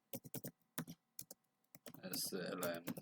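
Keys tapped on a computer keyboard while entering a full name into a Laravel registration form, giving several quick separate clicks followed by a denser burst of rapid typing, close and clear with no talk.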